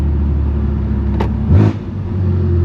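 A BMW F80 M3 Competition with a straight pipe exhaust drives through the city, giving a loud, close, steady engine drone with a brief blip and revving swell partway through.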